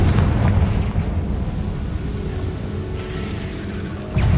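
Spell explosions from Bombarda and Confringo in the video game Hogwarts Legacy, a dense rumbling boom that sustains throughout, with a fresh burst near the end.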